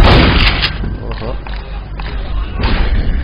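Gunfire from a repeater gun in Left 4 Dead during the Blood Harvest campaign, with loud, punchy shots and thuds over a noisy game mix and someone talking over it.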